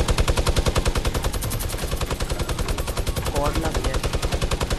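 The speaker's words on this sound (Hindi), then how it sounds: "मेरे को लगता है मिनी गन से सब कुछ उड़ा दूं" Minigun fire in a video game, a rapid continuous stream of loud shots that hammers steadily throughout, with a voice briefly speaking underneath the gunfire.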